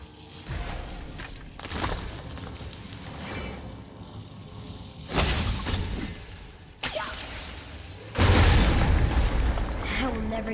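Objects shattering in the video game God of War, heard as several loud crashing bursts with breaking debris, the biggest near the middle and end, over steady game ambience and music.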